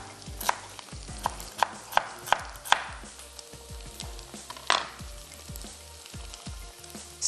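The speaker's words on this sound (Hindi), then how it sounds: "जब आपका बीफ डन हो जाए तो आप इसमें कुछ मिनट्स पहले वेजिटेबल्स ऐड कर दें और दोनों चीज़ें साथ में फ्राई हो जाएंगी" Beef and vegetables fry together in a stir-fry pan, with a steady sizzle under a run of sharp clacking strokes of a utensil and one louder scrape near the middle.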